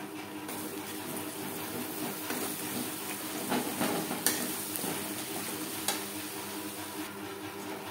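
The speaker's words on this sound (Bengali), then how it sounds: "4-5 মিনিট মশলা বেশ ভালো করে কষিয়ে নেব।" Spices fry and are stirred in a pan for vegetarian banana-blossom mochar ghonto, making a soft, steady sizzle with occasional scrapes and clicks of the spoon, close by and fairly quiet.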